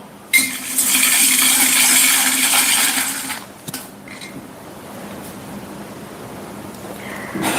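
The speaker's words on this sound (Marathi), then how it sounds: "आता आपले मॅम येतील हंडीमधून एक कॉईन काढायला मॅम कॉईन मिक्स करा" Metal coins are stirred and shaken inside a pot for a lucky draw, giving a loud, continuous rattling jingle for about three seconds, then dying into quieter shuffling clinks with faint room noise.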